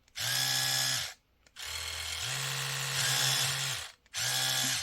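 A small Oral-B PRO Kids 3+ electric toothbrush motor buzzes steadily in three bursts, the middle one longest, with a short silent gap between each run; close and fairly loud.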